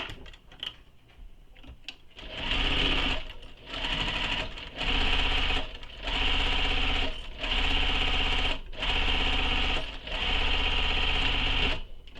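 A sewing machine stitches a shoulder bag seam in repeated bursts of steady whirring, each a second or so long and separated by short pauses, close and loud.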